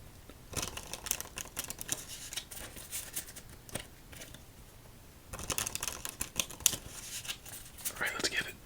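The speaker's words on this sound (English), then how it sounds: "let's give it 2 more shuffles" A deck of playing cards is shuffled during a quiet solitaire game, two bursts of soft, rapid riffling and flicking near the listener with a pause between them, amid faint talk.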